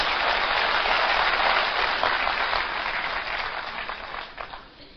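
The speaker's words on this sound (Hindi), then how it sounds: "ताली बजाएं तो तेज ही बजानी होती है, धीरे बजानी नहीं होती है" Dense, loud applause from an audience at a motivational seminar, steady at first and then thinning toward the end.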